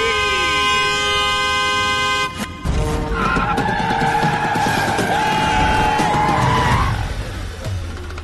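Car horns blare in a film scene, a strained, wavering horn tone opening over heavy engine and road noise, then a long sustained honk holding steady for several seconds before cutting off, all loud and close with no talking.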